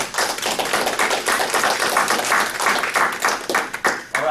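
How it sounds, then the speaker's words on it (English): Audience at an ACN discovery meeting applauds team members, a lively patter of many hands clapping with sharp individual claps standing out, fairly loud and without talk. "Can you give them a round of applause?"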